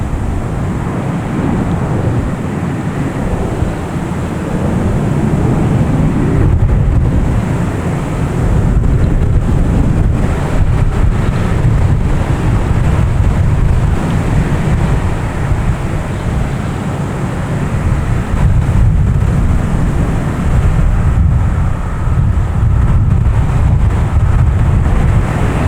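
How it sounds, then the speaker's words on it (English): A JetBlue Airbus A320 from Bermuda lands at Boston Logan, heard as a steady, broad roar mixed with heavy wind buffeting on the microphone throughout, with no talking. "gotta get this JetBlue from Bermuda coming in"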